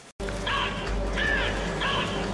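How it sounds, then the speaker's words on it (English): In a Doctor Who scene, a crow gives three harsh, evenly spaced caws over a steady low background hum, fairly close and distinct. "Did that crow just speak?"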